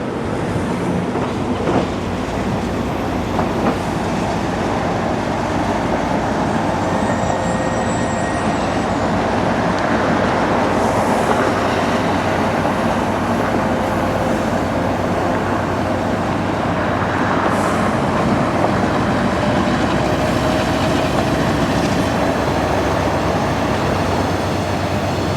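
An intermodal train led by a BNSF SD70MAC locomotive crawls slowly past a rail yard near Atlanta, a loud sustained rumble and clatter with faint tonal whines, continuous and without voices.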